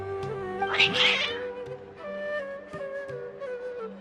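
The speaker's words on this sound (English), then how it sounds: "Your cats seem pretty worked up." Agitated cats in the video game Genshin Impact give several drawn-out, wavering meows close by, one louder yowl rising early, with no talk.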